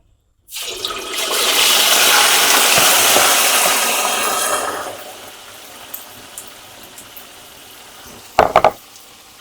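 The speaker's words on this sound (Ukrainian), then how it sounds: "олійка крепко закипить і закидаємо м'ясо" Meat hits hot oil for Uzbek plov, bursting into a loud hiss that fades to a quieter sizzle, followed later by a short clatter.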